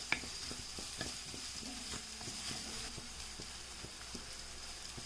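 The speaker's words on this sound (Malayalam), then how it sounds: "അരിഞ്ഞു വെച്ചിരിക്കുന്ന കൊച്ചുള്ളി ചേർത്ത് കൊടുക്കാം" Chopped shallots, green chillies and curry leaves fry gently in a hot pan for rasam, a faint, steady sizzle broken by soft scrapes of stirring, with no speech.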